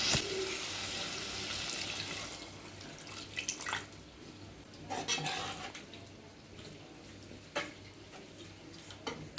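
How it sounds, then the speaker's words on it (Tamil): Water is poured into a pan of chicken liver cooking for a Tamil-style liver roast, a soft hiss at first, followed by scattered clinks and taps of a utensil against the pan in a quiet kitchen. "இப்போ ஈரல் வேகிற அளவுக்கு தண்ணி சேர்த்துக்கிறேன்."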